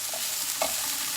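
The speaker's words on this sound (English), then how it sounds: "So I'm giving the onion a stir" Onion being stirred in a hot pan while it starts to cook, a soft continuous sizzle with a faint scrape of the utensil partway through, close and fairly quiet.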